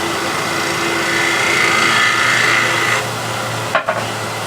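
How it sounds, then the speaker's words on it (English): Steady rubbing of wood shavings and beeswax over a small wooden heirloom box, a continuous close scratchy friction that stops near the end, followed by a couple of light knocks. "Again, shavings just to polish it up a little bit"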